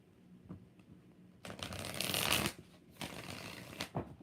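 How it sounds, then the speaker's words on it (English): A Light Seers tarot deck is shuffled by hand at close range, a brief riffle followed by a longer, louder burst of card flicking and then two shorter shuffles, with no talking. "4 shuffles."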